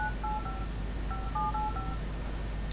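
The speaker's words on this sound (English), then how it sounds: "start dialing a number and constantly get sounds like this?" Keypad dialing tones on a Huawei Ascend G300 phone, a quick series of short beeps at varying pitches over a steady background hum.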